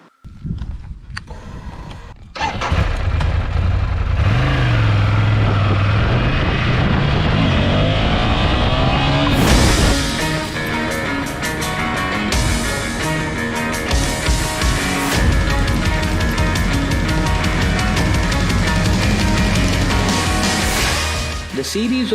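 A 2021 Ducati Scrambler Icon's engine revs and pulls hard while riding, a loud, sustained drone that climbs in pitch through the gears, steady from start to finish with wind rush mixed in.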